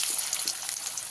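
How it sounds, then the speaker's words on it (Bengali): Potato pieces seasoned with salt and turmeric fry in hot oil in a pan, giving off a steady, close, hissing sizzle with faint crackles and no talking. "আমরা আলুর মধ্যে লবণ দিয়ে দিলাম, হলুদ দিয়ে দিলাম, দিয়ে আলুটাকে লাল লাল করে ভেজে নেব"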